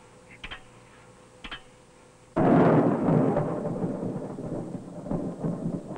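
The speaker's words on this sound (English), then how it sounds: "This rainstorm is dissipating. The electrical activity is moving south." Thunder from a passing rainstorm that is breaking up, a loud rolling rumble that bursts in after two soft ticks and then slowly fades under steady rain.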